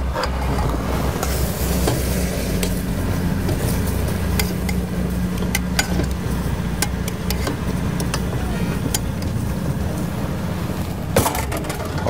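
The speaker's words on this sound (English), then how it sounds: "this is the point that we mix our vegetables with our beef." Soft, mushy cooked vegetables being stirred into beef in a pot, giving a continuous scraping, sizzling mix broken by scattered sharp spoon clicks against the pot.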